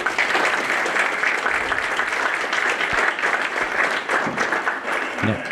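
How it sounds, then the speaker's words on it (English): An audience at a college business awards ceremony applauds with a continuous wash of clapping, fairly close and even throughout, with faint voices beneath. "Please give them a round of applause."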